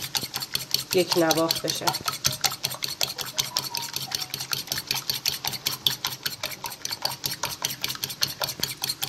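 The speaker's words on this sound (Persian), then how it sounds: "تخم مرغ رو خوب میزنیم تا" Eggs beaten in a bowl for homemade schnitzel, a steady fast rhythmic clatter of whisk or fork against the bowl running throughout, close and fairly loud, with someone briefly speaking over it.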